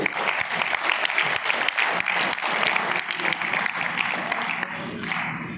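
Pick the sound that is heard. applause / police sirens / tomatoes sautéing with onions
applause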